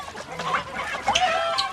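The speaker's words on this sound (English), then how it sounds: "I see the enemy Shaco being greedy and trying to steal my chickens." Video-game chickens in League of Legends cluck in a few short, separate bursts at moderate loudness, with no talk over them.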